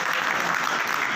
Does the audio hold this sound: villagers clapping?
yes